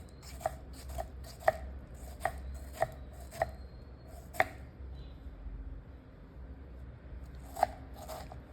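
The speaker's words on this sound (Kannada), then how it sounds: "ನೆಕ್ಸ್ಟು ಟೊಮೆಟೊನ ಕಟ್ ಮಾಡ್ಕೊಬಿಡಿ, ಅದು ಸಣ್ಣ ಸಣ್ಣಕ್ಕೆ ಕಟ್ ಮಾಡ್ಕೊಳ್ಳಿ." Tomato chopped into small pieces with a knife on a cutting board, about a dozen crisp, separate knocks at an uneven pace, close but faint, with a pause in the middle before a final few cuts.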